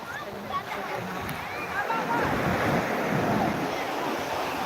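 Sea waves surge and wash against the shore beside a seaside temple, a steady broad roar with wind buffeting the microphone; a voice murmurs faintly beneath the surf.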